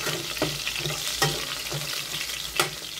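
Chicken breast and mushrooms sauté in a pan, a continuous bright sizzle broken by a few sharp scrapes of stirring at intervals, close and alone.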